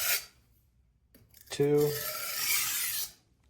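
A chef's knife blade drawn in clean strokes across a sharpening stone while smoothing a bevel, giving a single brief rasping scrape after a short spoken count.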